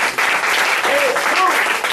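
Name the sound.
congregation applause in church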